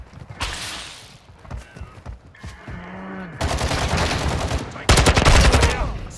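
Rapid gunfire bursts from Call of Duty Modern Warfare 2 gameplay, loud and dense, building into sustained heavy automatic fire toward the end, with brief pauses and shouted voices in between.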